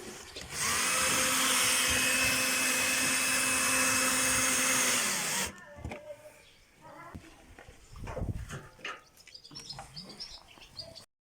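A power tool drives screws to fasten cut pieces onto a steel box, a loud steady whine for about five seconds before it stops, followed by quieter handling sounds and faint background noise.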